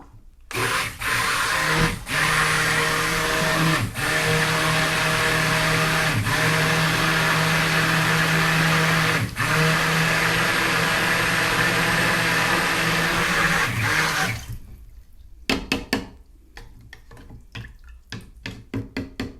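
A mixer churns terra sigillata clay slip at a loud, steady pitch for about fourteen seconds with a few brief bumps, then shuts off and leaves scattered clicks and taps.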